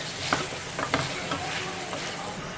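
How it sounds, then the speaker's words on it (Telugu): Chopped tomatoes fry with a loud, steady sizzle in a pan, and several sharp scraping strokes come as they are stirred in, close up and with no talk. "ఇప్పుడు మనం కట్ చేసి పెట్టుకున్న టమాటోస్ వేసుకుందాం. ఒకసారి ఇలా బాగా కలిపేసుకుందాం."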